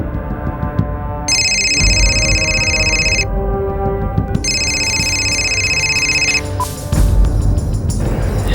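A telephone rings in a crime drama scene, two long electronic ring bursts separated by a brief pause, loud over a low background bed.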